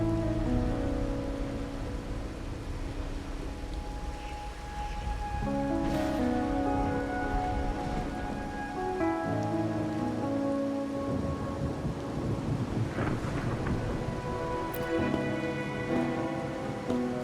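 Steady rain falls in the game Wuthering Waves with rolling thunder, a continuous wash under layered music and tones, alone without speech for the whole stretch.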